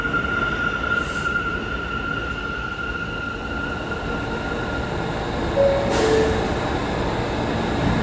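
A New York subway R211A train built by Kawasaki rumbles steadily, with a high motor whine and a brief wheel squeal.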